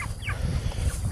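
Poultry housed in a chicken tractor give close, overlapping gobbling and clucking calls over a busy, rustling background.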